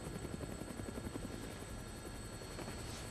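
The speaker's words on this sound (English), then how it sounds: "Looks like taking a helicopter was the way to go." Helicopter in flight from the video game Dead Rising, a steady loud rotor thrum with rhythmic chopping pulses and a high turbine whine, continuous throughout with no voices.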